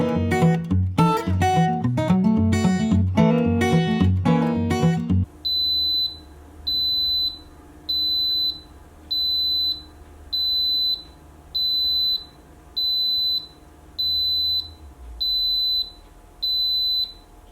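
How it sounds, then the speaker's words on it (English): An Instant Pot Ultra mini 3-quart cooker beeps when cook time finishes: about ten evenly spaced, high, loud beeps in a steady rhythm after a short stretch of music. "So cook time is finished, and that is why you heard all of that beeping."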